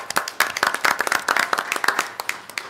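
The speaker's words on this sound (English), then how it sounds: "let's give them a round of applause." A small audience at a school board meeting claps for a few seconds, with scattered, uneven hand claps that are fairly faint and thin.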